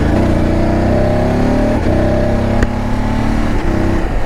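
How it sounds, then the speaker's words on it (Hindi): A motorcycle ridden on a Ladakh road toward Galwan Valley accelerates hard with a quick shifter, its engine roaring loudly and continuously, with brief breaks in the drone as gears change up without the clutch. "देखो अपन क्लच नहीं दबा रहे हैं, गियर शिफ्ट भी हो रहा है और गियर अप भी हो रहा है।"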